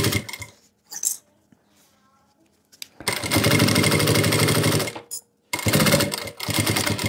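A sewing machine stitches a zipper onto fabric with lining in loud, close bursts of rapid needle chatter, stopping briefly between runs and finishing with a short backstitch.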